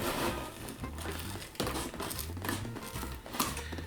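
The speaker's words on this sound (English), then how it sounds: "And then the other side, again, you just cut another square." Paper or cardboard being cut into a square opening for a homemade pinhole eclipse viewer, heard as close crinkling and tearing scrapes in uneven bursts, with no talk.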